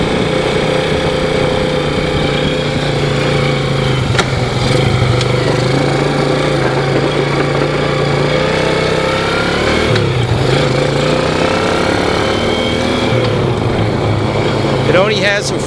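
A Yamaha Moto4 ATV engine runs loud and steady during a ride, its drone rising and falling in pitch with the throttle. A voice talks over it in parts.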